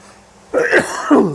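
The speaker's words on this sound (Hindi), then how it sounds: "थोड़ा खांसी हो गया है।" A single short throaty cough bursts out with a second smaller hack just after, close and fairly loud, with no talking.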